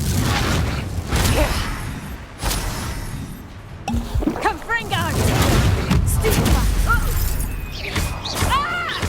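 A Confringo fire spell explodes during a Hogwarts Legacy duel, a loud blast and crash amid busy combat noise, with voices talking and shouting around it.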